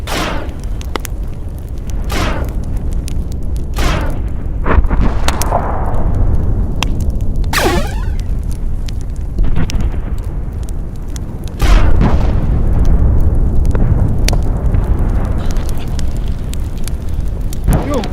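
Several loud booming blasts and bursts erupt over a rumbling, fiery background, spaced irregularly through the stretch like action-movie explosions.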